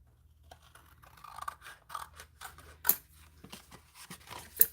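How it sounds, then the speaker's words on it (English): A piece being cut off a junk journal cover, a series of separate scissor snips and rasping cuts through card, close and fairly quiet, with no talking. "I'm going to cut this piece off so that I have my journal"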